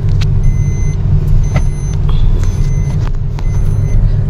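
A car on a Kolkata to Vaishno Devi road trip rolls along the highway, a loud steady engine and road rumble filling the cabin with faint intermittent beeps above it.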